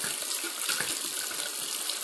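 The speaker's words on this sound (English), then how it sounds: "I'm going to turn the hot water back on and just kind of continue to flush this through." Hot water runs steadily from a bathroom sink tap while flushing the drain clean, a continuous bright hiss and splash with no pauses.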